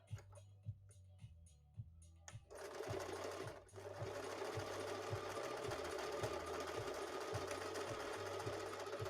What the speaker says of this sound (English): I'm sewing it back and forth a bunch because I really don't feel like losing it this time